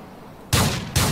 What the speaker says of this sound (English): Shots fired, move in.